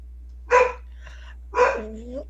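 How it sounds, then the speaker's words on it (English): A dog gives two loud, close barks about a second apart, the second trailing off into a short whine, with no speech around them. "Usually it's me that's dealing with loud dogs"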